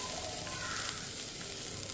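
Chopped vegetables, including beetroot, sauté lightly in a pan for a soup, giving a soft, steady sizzle at low volume throughout.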